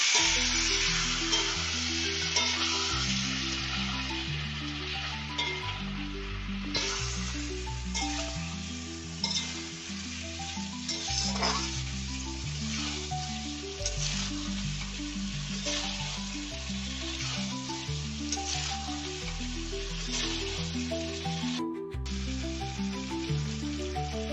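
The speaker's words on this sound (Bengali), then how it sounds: "এইভাবে 2 থেকে 3 মিনিট নাড়ার পর একটু একটু জল দিয়ে নাড়তে হবে" Pointed gourd and prawn curry being stirred in a pan, a steady frying sizzle under repeated scraping stirs with an occasional light clink, close and continuous throughout with no talk.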